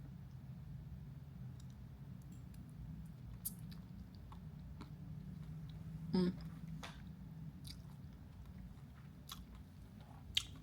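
Soft, wet chewing of noodles close to the mic, with faint slurps and a sharper bite partway through, in a quiet room.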